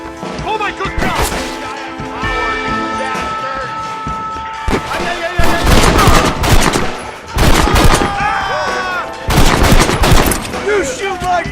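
Gunfire in Red Dead Redemption, repeated rifle and pistol shots cracking in loud bursts and volleys, with shouting game characters talking between and over the shots.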